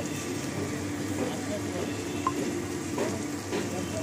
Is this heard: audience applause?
no